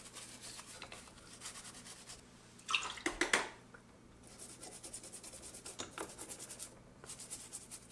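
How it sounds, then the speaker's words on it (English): A toothbrush with mild soap and water scrubs a part from an old Chandler by Bernina 950 industrial sewing machine. Soft, close rubbing strokes come in quick rhythmic bursts, with a few louder wet scratches and faint drips between them. "Mild soap and water again, toothbrush."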